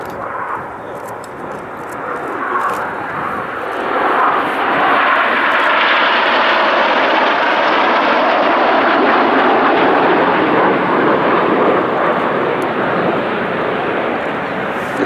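A loud, sustained roar of jet engines passes overhead, swelling and holding as several Red Arrows display jets fly by together in formation at an air show, with no voices.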